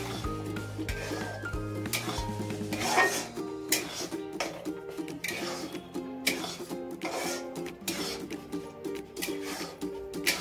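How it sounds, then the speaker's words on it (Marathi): Jaggery sheera being stirred in a pan: a spoon scrapes and rubs against the pan in a steady repeating rhythm, close up, with background music running underneath. "असं ढवळत राहायचं. म्हणजे हळूहळू तो घट्ट होणार."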